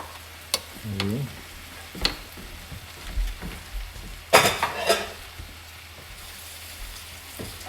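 A breakfast mix with leftover bits of sausage frying in a pan and being stirred, with soft sizzling under scattered scrapes and clinks of the utensil against the pan, including a sharper burst of clatter midway.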